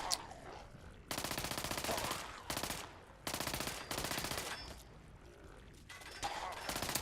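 Enemy automatic weapons in Fallout 76 fire in loud rapid bursts, several separate volleys of machine-gun rattle broken by short pauses.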